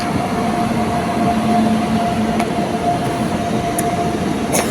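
A train rumbles steadily at Bishnupur railway station with a loud, continuous low drone and a sustained tonal hum, plus a few faint clicks from the rails and platform.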